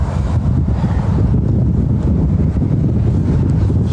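Strong outdoor wind buffets the microphone in a steady, loud, low rumble that lasts the whole time, with no voices.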